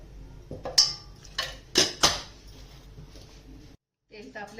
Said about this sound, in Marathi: गॅसवरती कढई ठेवते, 2 चमचे तेल टाकते फोडणीसाठी